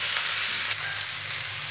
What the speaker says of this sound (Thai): แล้วเราก็ใส่มะระลงไปผัดเลย นะคะผัดไปเรื่อยๆให้มะระสลดนะคะ